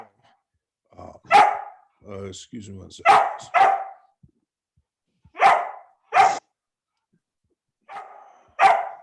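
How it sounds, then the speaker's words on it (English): A dog barks in loud, sharp bursts, several spaced barks close by, alternating with a person speaking during a webinar at home. "the dog's getting a little upset"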